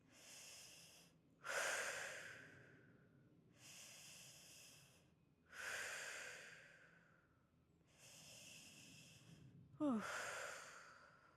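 Slow, deep breaths during a heart-opening fascia class: long hissing inhales and exhales in a steady cycle of about four seconds, close and fairly quiet, with one sharper sniff near the end.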